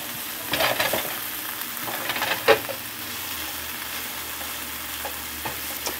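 Pork stir fry sizzles steadily in a hot pan, a constant crackling hiss with occasional clinks and scrapes of stirring close by.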